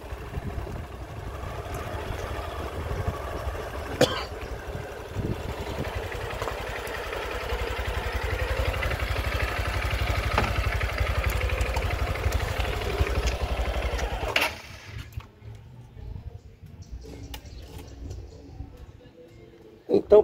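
A motorcycle engine idles steadily and close by for about fourteen seconds, then cuts off, leaving quiet outdoor background.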